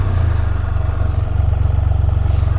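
A 2022 Can-Am Spyder F3L three-wheeler's engine drops through a downshift, a loud, close, steady low rumble with a fast pulsing throb running throughout.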